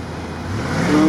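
A Range Rover powering along an off-road track, its engine note building steadily in a low, continuous growl that grows louder as it approaches, with no talk over it.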